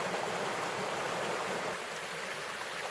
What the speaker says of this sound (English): right by the noisy east fork of the Foss River